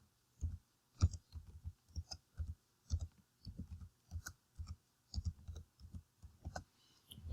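Calculator keys are tapped in a quick, irregular series of soft, close clicks, entering values one after another with no talk.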